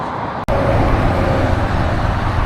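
Steady roar of motorway traffic from below a bikeway bridge, a loud continuous rumble with a brief dropout near the start.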